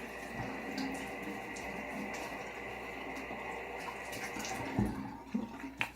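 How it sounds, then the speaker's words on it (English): Water splashing as hands wet a face before a straight-razor shave, soft running and dripping water under faint room noise, ending with a few sharper splashes. "Let me get my face wet."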